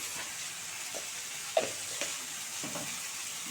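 Mustard greens and eggplant curry stirred in a pan, a soft steady sizzle with a few brief scraping strokes of the spoon, near and fairly quiet, no voices.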